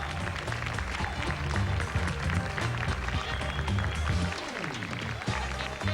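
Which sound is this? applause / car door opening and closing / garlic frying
applause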